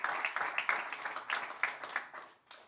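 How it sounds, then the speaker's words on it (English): A press conference audience applauds the pickleball team in a steady, moderately faint burst of clapping that tapers off near the end. "So big round of applause for them."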